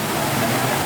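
Cold water rushing steadily through a tunnel on a river, a dense continuous wash of flowing water filling the whole clip at close range.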